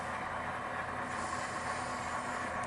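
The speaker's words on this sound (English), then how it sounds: "As the trains come around the bend here" An HO scale model freight train runs around a bend on a model railroad layout, giving a quiet, continuous mechanical whir and rattle of motor and wheels, with no talking heard.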